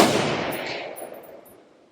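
A 7.62 round from an AR10 rifle strikes a small 8-inch AR500 steel gong with one loud, sharp metallic crack at the start, which rings out and decays steadily over the next two seconds.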